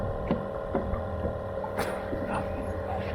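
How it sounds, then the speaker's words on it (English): A trolling motor hums steadily on a fishing boat, a low constant drone with faint knocks and splashes around it. "Do you think trolling motor noise spooks them any?"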